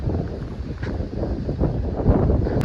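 Wind gusts across an open farm field at sowing time, a steady rushing buffet against the microphone, fairly loud and with no talking.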